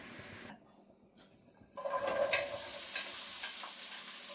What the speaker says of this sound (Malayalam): ഇനി ഇതിലേക്ക് ഞാൻ ആ എണ്ണയിലേക്ക് തന്നെ വെണ്ടയ്ക്ക ഇട്ടിട്ട് ഒന്ന് ചെറുതായിട്ട് ഫ്രൈ ചെയ്തെടുക്കുവാണ്.